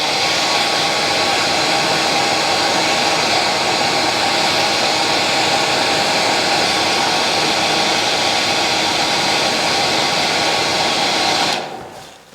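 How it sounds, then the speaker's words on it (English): A hair dryer blowing steadily and loudly on a tied fishing fly for several seconds, a constant whooshing whine that cuts off abruptly at the end. "So I'm just going to use the hairdryer just to show you."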